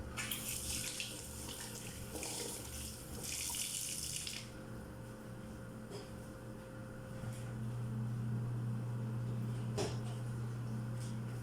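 Water from cooking adobo chicken is poured out and discarded, most likely into a sink. A rushing splash fills the first few seconds, then it thins to a quieter trickle and drips over a steady low hum.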